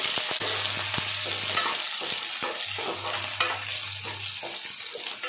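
Mustard seeds, cumin and chopped onion fry in about three spoons of oil for an okra fry, giving a steady bright sizzle with a low hum beneath, broken by repeated clinks and scrapes of a spoon stirring in the pan.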